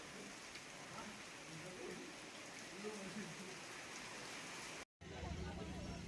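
Continuous rain falling in Meghalaya near the Seven Sisters waterfall, a dense, even hiss of heavy rainfall that runs throughout, broken only by a brief dropout near the end.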